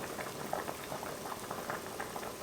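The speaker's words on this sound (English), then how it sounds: "we'll bring it up to a boil and let them boil till they're almost tender" Carrots boiling in a pot of water and cranberry juice over a medium flame, a steady bubbling with frequent small pops and gurgles, close and continuous.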